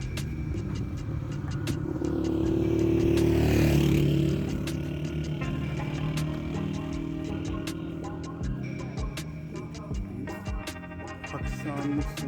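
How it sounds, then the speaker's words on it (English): A motorbike approaches on a road in the cold desert of Shigar near Skardu, its engine swelling to a close peak partway through before easing off, with light ticking and clatter around it. "Our bike is coming right now."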